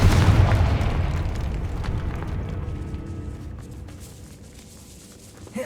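A fiery Confringo explosion spell in Hogwarts Legacy goes off as a loud, close boom that rumbles and slowly fades over several seconds, with a small thud at the very end.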